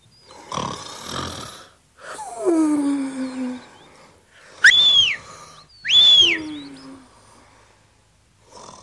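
A cartoon character snores loudly in a series of long, exaggerated, whistling breaths with gaps between them, close and alone.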